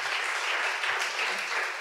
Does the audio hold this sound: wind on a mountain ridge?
no